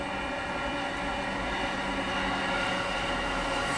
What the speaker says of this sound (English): Looks like some interesting locomotives.